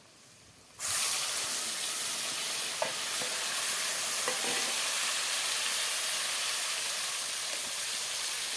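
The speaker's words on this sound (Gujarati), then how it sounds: "ડુંગળીની ગ્રેવી નાખી દઈએ આપણે." Onion gravy poured into a hot pan bursts into loud, steady sizzling that begins suddenly and continues evenly, with faint stirring clinks, close by and with no voices.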